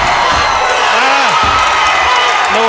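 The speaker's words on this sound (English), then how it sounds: "Wow, the crowd erupts." A packed combat-sports fight-night crowd roars in loud, steady cheering and whooping after a finish, with an announcer talking over the dense wall of noise.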